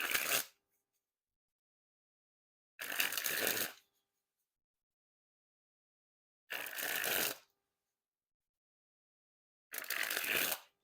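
A Dan and Dave playing card deck of thin crushed stock is sprung from hand to hand in four separate bursts, each a dense fluttering riffle close up, with silence between them.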